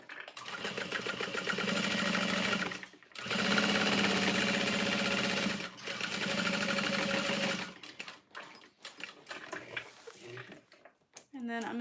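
A sewing machine stitches a fabric bag in steady bursts, running loud and close for a few seconds at a time. Short pauses break the runs, and the clip ends with quieter handling clatter and brief talk.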